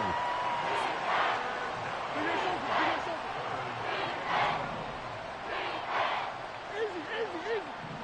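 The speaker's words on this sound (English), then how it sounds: "This crowd turning up the decibel level." Stadium crowd at a Bills vs Falcons football game, a steady broad roar that swells in waves, loud and sustained beneath a commentator's voice.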